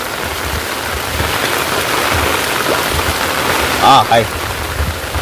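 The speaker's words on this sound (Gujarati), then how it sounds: "સારી કોર વરસાદ આવે છે" Steady rain pours down outdoors during a monsoon downpour, a constant hiss of drops on surfaces; a voice speaks briefly near the end.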